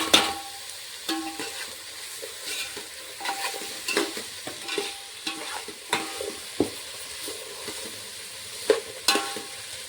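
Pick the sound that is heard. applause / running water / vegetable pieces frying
vegetable pieces frying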